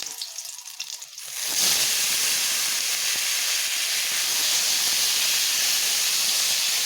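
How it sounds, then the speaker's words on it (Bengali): Washed potato pieces drop into hot oil with a bay leaf, setting off a sudden loud, steady hissing sizzle that holds evenly after a brief quieter stir at the start. "আলুটাকে এখন আমি বেশ ভালোভাবে একটু ভেজে নেব"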